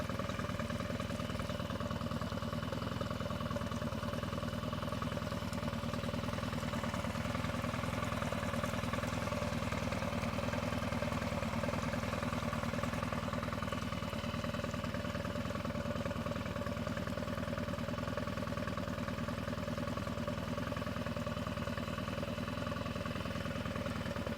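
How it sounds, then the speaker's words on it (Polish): A steady Storm F18 outboard motor runs continuously at a constant idle-like pitch, heard from the tiller, close and even throughout, with no voices. "silnik uruchomiony i mierzymy głośność od"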